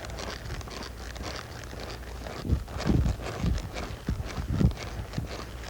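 Horse hooves thud and clip-clop through a flying lead change under a rider, an irregular series of dull hoofbeats at moderate distance over steady outdoor ambience.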